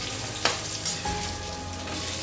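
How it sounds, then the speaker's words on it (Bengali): Boiled potatoes fry in hot mustard oil in a wok with a steady, close sizzle, broken by a few sharp stirring clatters and pops. "সেদ্ধ করা আলুগুলো দিয়ে দিলাম। এটাও সামান্য ভাজা হয়ে যাবে।"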